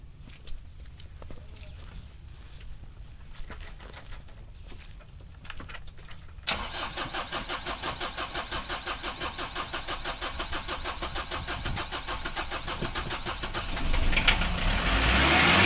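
A car engine on a rural Thai farm cranks after trouble and then catches, settling into a loud, steady rhythmic idle that swells slightly near the end, with no talk over it.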